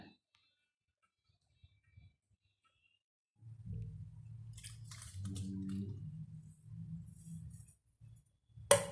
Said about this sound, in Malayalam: അതൊക്കെ വെള്ളം ഒഴിച്ചു കൊടുക്കുക